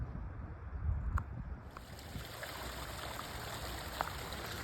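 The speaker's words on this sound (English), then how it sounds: "get water from the little waterfall on the side of the trail" A small trailside waterfall beside the Appalachian Trail in northern Maryland gives a steady, faint rush of flowing water, continuous and somewhat distant, with a few low thumps early on.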